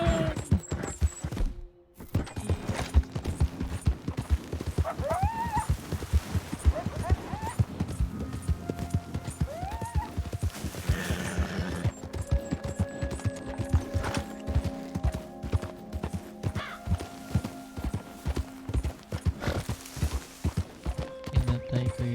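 Horse hooves clatter in a rapid, rhythmic clip-clop as a horse gallops in Red Dead Redemption 2, loud and steady throughout with game sounds layered over it and occasional talk.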